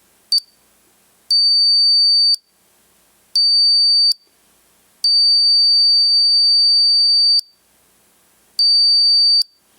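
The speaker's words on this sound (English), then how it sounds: "So let me turn this buzzer off for a bit." A motion detector kit's electronic alarm buzzer sounds in repeated high, piercing tones: a quick chirp, then four sustained blasts of varying length separated by short silences.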